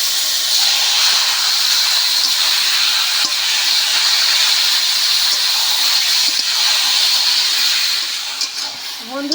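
Boiled, drained taro leaves hitting a hot pan, a loud, steady steamy hiss and sizzle filling the whole stretch, close up, with a few faint clinks.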